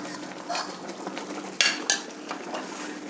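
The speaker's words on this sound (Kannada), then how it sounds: "ಈಗ ರಾಗಿ ಹಿಟ್ಟನ್ನು ಸೇರಿಸ್ತಾ ಇದ್ದೀನಿ." A spoon scrapes and stirs soaked ragi flour into semolina upma in a pan over a low flame. Soft sizzling runs throughout, with a couple of sharp metallic clinks near the middle.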